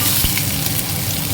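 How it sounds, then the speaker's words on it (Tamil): Mustard seeds, cumin and urad dal fry in hot oil for banana flower poriyal, giving a steady close sizzle and crackle with a few small pops throughout. "இப்போது நான் கடுகு போட்டுருக்கோம். சீரகம், உளுந்து போட்டுருக்கேன்."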